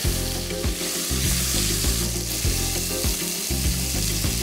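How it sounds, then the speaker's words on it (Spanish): Rabbit meat browning hard in olive oil for a rice dish, a loud close sizzle with rhythmic stirring pulses and no talking. "Si trabajamos con buen aceite, no os preocupéis, que la carne esté bien, bien, bien sofrita."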